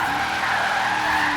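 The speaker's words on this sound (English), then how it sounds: "we've came to this little hairpin in the outback to see if we can get it sideways" Ford Falcon XR8 sliding sideways through an outback hairpin in the racing game Forza Horizon 3, a steady, loud tire screech layered over engine roar, continuous throughout with no talk.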